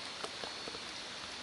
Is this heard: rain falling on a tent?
yes